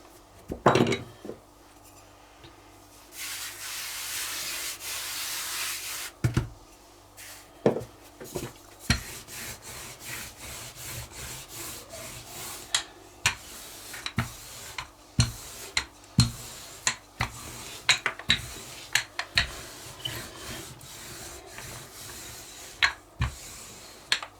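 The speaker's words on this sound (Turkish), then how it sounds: "Şimdi merdane ile güzelce açalım" Rolling pin working börek dough on a wooden board, a steady scraping rub punctuated by frequent light knocks and clacks of the pin, close and fairly loud with no talking.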